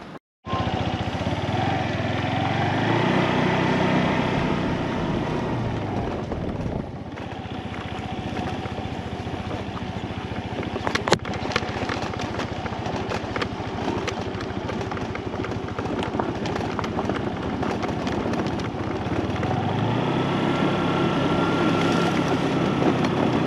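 A rented moped engine drones steadily throughout a ride across a South Pacific island in French Polynesia, mixed with constant wind rush and a brief dip in pitch midway.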